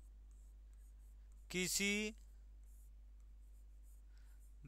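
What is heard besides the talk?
writing on a board during a lesson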